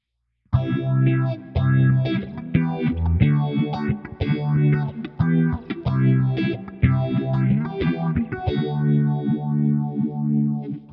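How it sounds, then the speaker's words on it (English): Electric guitar through a Valeton GP200 with a quarter-note delay set to 84 BPM, distorted chords and notes ringing with rhythmic repeats and a chorus-like shimmer, loud and close, played alone without talk. "If let's say we do a quarter note delay at 84 BPM."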